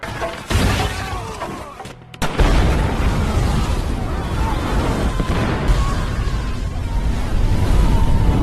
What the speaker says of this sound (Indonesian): mereka malah terperangkap bom yang sudah ditebar Swagger sebelumnya